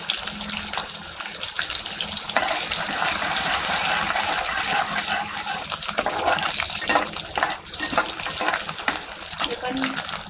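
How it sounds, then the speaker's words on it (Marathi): Bay leaf and onion dropped into hot oil in a home kitchen, setting off a loud, close, hissing sizzle that swells and then keeps crackling steadily, with a voice speaking faintly. "तेल आपलं गरम ठेवलेलं आहे. तेजपत्ता टाकूया आणि कांदा टाकूया."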